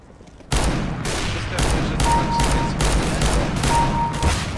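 Rapid revolver fire in the CS:GO video game, a dense, loud volley of shots in quick succession that runs without a break for about four seconds.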